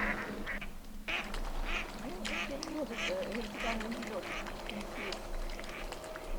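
Ducks quack repeatedly in a busy chorus, fairly close, near swans, over a steady outdoor background with other birds mixed in.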